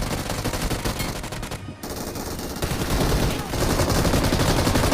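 Gunfire in the battle royale game BGMI: dense, rapid automatic bursts crackle continuously and loudly, with a brief lull near the middle before the firing resumes.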